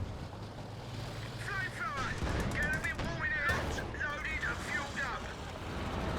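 Machine gun fire sounds in a Company of Heroes 2 battle as repeated rattling bursts over a steady rumble of wind and vehicle noise. A voice talks beneath it.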